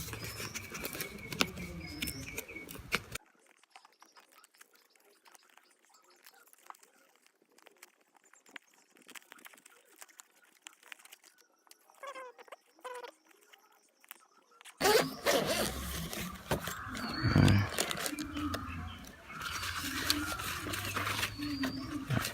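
Rustling, zipping and handling of packaging while a GoPro Hero 7 sports kit is unboxed, with louder crinkling bursts at the start and end around a quieter middle of small clicks and scrapes.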